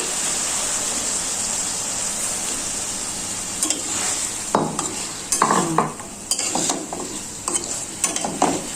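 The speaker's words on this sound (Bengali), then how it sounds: "তো এখন আমি যে ট্যাংরা মাছটা দিয়ে দিচ্ছি" Tengra fish cooks in a spice masala with a steady hissing sizzle, joined midway by irregular clinks and scrapes of a spatula stirring in the pan, up close without speech.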